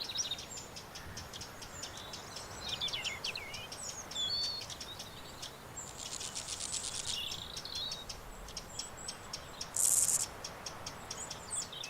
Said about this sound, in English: Meadow grasshoppers are engaged in a noisy courtship competition.